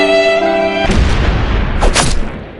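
A bomb explodes in the Free Fire battle-royale video game, a loud booming blast with a rumbling tail and a second sharp burst shortly after, alone with no talk.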